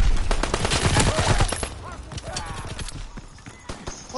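Grease gun firing in a World War II shooter game: loud rapid bursts of automatic gunfire up front, easing into scattered sharper shots with some game noise behind.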